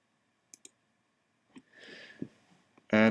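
Computer mouse clicks, two sharp quick clicks close to the microphone in a quiet room, followed by faint rustling and then a voice starting to speak.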